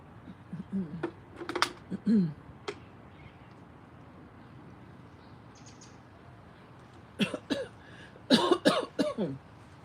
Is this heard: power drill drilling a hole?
no